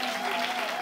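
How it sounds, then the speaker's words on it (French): Studio audience applause on a French television game show, a brief, even wash of clapping from many hands with a faint tonal hum underneath. "faites un tonnerre d'applaudissements pour ces dames et messieurs"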